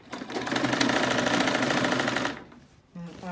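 A sewing machine stitches fabric for a lined skirt with a band, whirring in a steady fast run for about two seconds before stopping, close up, with brief talk.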